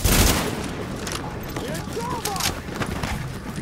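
A rapid burst of machine gun fire from The Division's combat opens loud, then settles into ragged shots and booms as a voice shouts over the fight.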